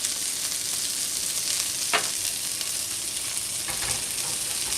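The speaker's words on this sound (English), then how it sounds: "I'm going to add that to the onions." Worcestershire sauce poured into onions frying in a pan for burgers, giving a steady sizzle with a sharp splash of liquid partway through and soft stirring scrapes, no talking.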